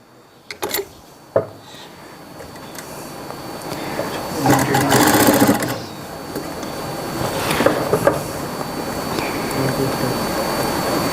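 A sewing machine stitches gum piping onto a Punjabi suit, with a few sharp clicks at the start followed by bursts of fast mechanical whirring that rise and fall close by.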